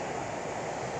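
Large waves crash onto a Lake Michigan beach at South Haven's South Beach in strong wind, forming a loud, continuous roar of surf and gusts with no break.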